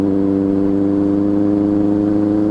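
A vintage Mercedes 300D car engine runs nearby with a steady, smooth rumbling whir that holds an even pitch through the whole short stretch, with no voices over it.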